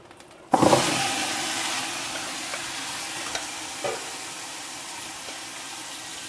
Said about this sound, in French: Alors je rajoute un peu d'huile et j'ajoute la suite des légumes